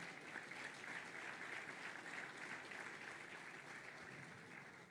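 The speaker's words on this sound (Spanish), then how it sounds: "Denle un aplauso a Él" A church congregation applauds during a Mother's Day special service, a soft, steady wash of distant clapping with no talk over it.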